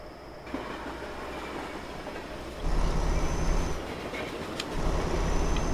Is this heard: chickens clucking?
no